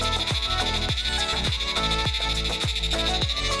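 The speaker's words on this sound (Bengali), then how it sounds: "এই অসংখ্য পোকার ডাক, জানি না এগুলো কি পোকা, ঝিঝি পোকার মতনই লাগে পাহাড়ে" Insects beside a mountain road near Kurseong pulse in loud, regular cricket-like calls, a rapid repeating trill of croaky bursts roughly every half second over a dense continuous drone, with no talking.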